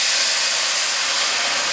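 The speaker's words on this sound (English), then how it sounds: "The first thing to add to our pan is a half of a cup of balsamic vinegar" Balsamic vinegar, half a cup, poured into a hot pan for a caprese chicken sauce, giving a steady, loud broadband sizzle and hiss that holds evenly throughout with no talking.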